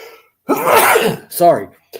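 A single sharp human sneeze burst, close and loud, followed by a brief spoken word.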